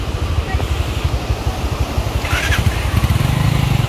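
A motorcycle engine putters with a steady, rough low rumble, close by, running continuously through the short stretch.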